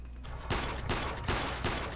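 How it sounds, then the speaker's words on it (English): Repeated gunfire aimed at an enemy turret in the video game Iron Storm: a quiet start, then four sharp, evenly spaced bursts, close and punchy. "I'm shooting your turret."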